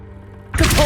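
A Levioso spell cast in Hogwarts Legacy: a low ambient hum gives way to a sudden loud, bright, airy burst that fills the second half of the clip.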